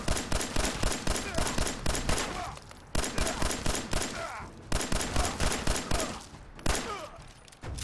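Rapid 10mm pistol gunfire in the video game Fallout 4, with loud, close shots fired in fast bursts of sharp cracks and brief pauses between volleys.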